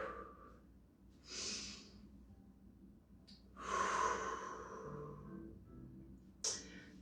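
Deep breaths during a gentle mobility exercise: a few slow, airy inhales and exhales, close and soft, spaced apart in a quiet room.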